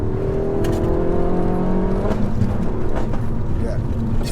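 A 300 bhp Peugeot 308 GTi Stage 2 drives fast on a country road, its engine droning loudly and steadily with a rising tone, tyre and wind roar underneath; no speech during this stretch.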